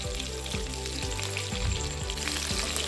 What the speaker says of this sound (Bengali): পটলটা কিন্তু খুব তাড়াতাড়ি ভাজা হয়ে যাবে।